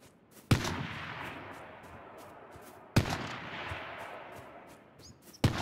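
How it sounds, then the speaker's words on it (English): Three sharp, loud gunshots ring out at spaced intervals as a player fires a gun in the survival shooter H1Z1 King of the Kill, each one followed by a decaying rumble of background game noise. "Oh, I just shot my gun."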